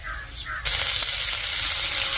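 Hot oil for tempering dahi kadhi bursts into a loud, close sizzle as curry leaves, cumin and mustard seeds hit it, starting abruptly and then hissing steadily without letup.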